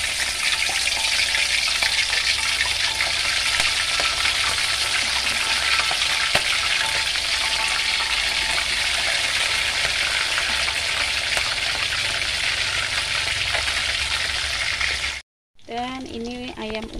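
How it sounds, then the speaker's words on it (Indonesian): Marinated braised chicken frying in hot oil, a dense continuous sizzle and crackle with popping bursts, close and loud, ending briefly with a voice. "Sekarang kita goreng ayam ungkepnya."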